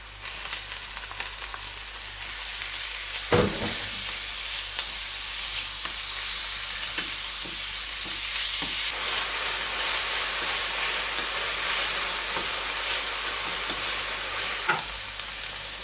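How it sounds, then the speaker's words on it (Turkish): Minced meat fries with a loud, continuous sizzle and hiss, punctuated by occasional clanks and scrapes of stirring in the pan. "Kıymamızı ekleyip devam kavuralım."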